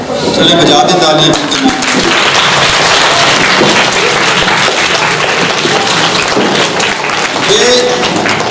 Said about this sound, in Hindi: चले बजा दें तालियां।